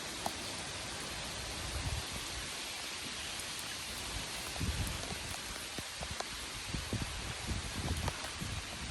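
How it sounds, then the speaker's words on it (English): Soft, steady rain falling on a garden, a faint continuous patter with scattered louder drops and no voices. "So it rained all weekend"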